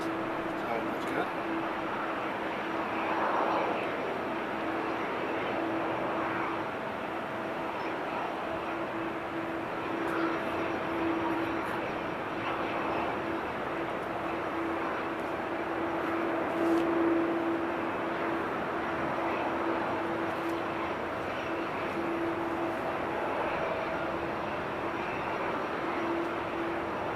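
A Transavia airliner at an airport gives a steady, distant engine drone and whine while taxiing, continuous and moderately faint, with a person talking over it.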